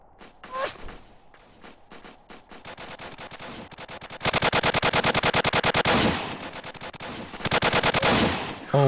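Bursts of automatic gunfire from the Apocalypse Rising video game, close and loud, with scattered single shots early on giving way to long rapid volleys that pause and resume.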